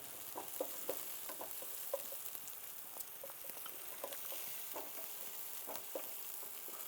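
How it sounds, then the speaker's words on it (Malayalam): Chopped capsicum frying and being stirred in a pan for kabsa, with a steady soft sizzle and repeated scraping stir strokes throughout, fairly faint. "ഇനി നമ്മൾ ഒരു ചെറിയ ക്യാപ്സിക്കം ചെറുതായിട്ട് അരിഞ്ഞത് അതുകൂടെ അതിലേക്ക് ചേർക്കാൻ പോവുകയാണ്."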